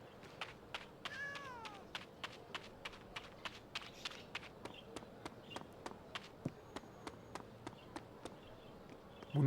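Cats meow repeatedly in the game Naruto to Boruto Shinobi Striker amid a steady run of rhythmic footstep taps, with one rising meow early on.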